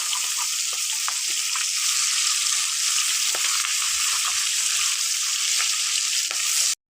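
Chepti fish, a large fish cut into pieces, sizzling steadily as it fries until reddened in a pan of hot oil, a close, continuous crackle with small pops and stirring, no voices.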